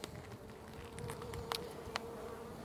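A developing honey bee colony buzzes steadily at the hive, a faint continuous hum with a couple of brief louder bumps close by.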